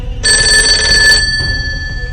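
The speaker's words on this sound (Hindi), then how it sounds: "उसके बाद राकेश लगातार फ़ोन मिलाता रहा," A telephone rings with a bright electronic trill for about a second, then the ringing stops and only low background hum remains as the caller keeps redialing.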